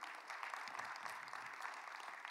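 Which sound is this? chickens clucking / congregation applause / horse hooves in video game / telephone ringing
congregation applause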